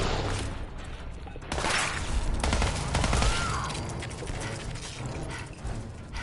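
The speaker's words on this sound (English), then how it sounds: "Someone's shooting acid at me." Acid spat at the player in a Fallout 4 mod set in a cove area with red scorpions: a dense, steady stream of rattling, spattering game effects with sharp bursts, loud and continuous throughout, with no talk.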